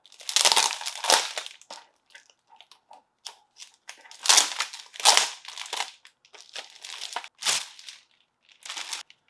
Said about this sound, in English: Let's get rid of the plastic wrap, yeah?